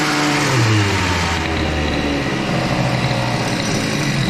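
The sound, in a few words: Airsal CPI 70 scooter engine revving with a big throttle blip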